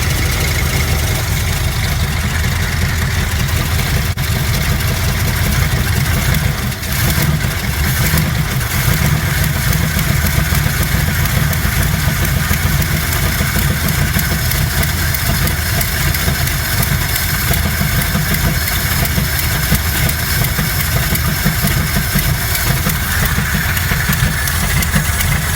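A 1972 Chevy K20 truck engine idling, a steady, even low rumble held close and loud throughout with no talk over it.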